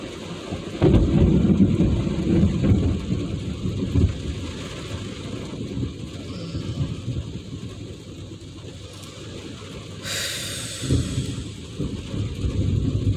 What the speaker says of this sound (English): I would have been in tears from the first lightning strike and thunder roll.